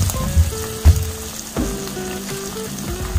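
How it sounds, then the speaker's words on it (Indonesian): Garlic pork ribs fry in oil over low heat, giving a close, steady crackling sizzle with occasional louder pops and soft knocks, and no voices. "Nah, ini akan saya goreng ya."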